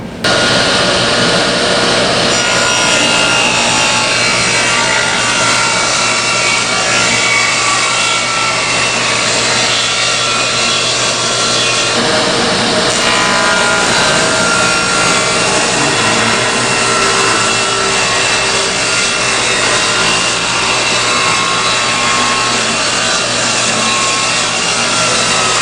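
A power saw cuts leftover wood stock into 1.5-inch squares, a loud, steady whining rasp that runs almost unbroken for the whole stretch, close up and alone.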